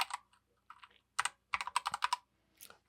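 Fingers type on a computer keyboard in quick, close clicks that come in short bursts with brief pauses between them.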